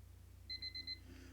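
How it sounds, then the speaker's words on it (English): An alarm clock in the video game Asagao Academy beeps four quick high-pitched pips in a single burst, faint over a low steady hum. "I woke up at my alarm beeping"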